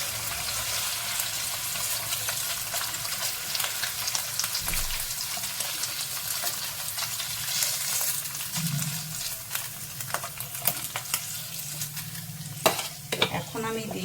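Paneer frying in caramel in a pan gives a steady sizzle with stirring and scraping throughout, a few sharper clinks near the end, and no talking.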